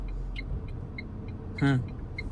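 A Tata Punch car moves forward slowly during a driving lesson, a low steady engine rumble with a brief louder swell partway through and faint voices in the background.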